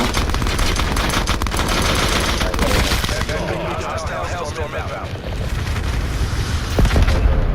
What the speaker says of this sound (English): Because I'm shooting at 3 guys, bro.